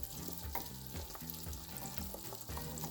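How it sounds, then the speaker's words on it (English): Apples frying in butter in a non-stick skillet give off a steady, close sizzle that runs the whole time, with faint stirring clicks and no talking. "To my non-stick skillet, we are going to add some butter, and add in our apples"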